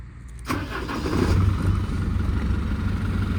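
A MAN library bus engine cranks briefly and catches, then settles into a steady, loud, low diesel idle that carries on alone, with no talking.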